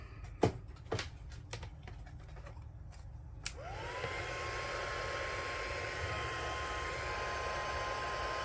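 Hair dryer switched on to dry a paper file folder craft, a few handling clicks and taps first, then a sudden steady loud whooshing blow with a rising whine that holds to the end.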